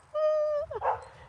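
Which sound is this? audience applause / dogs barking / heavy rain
dogs barking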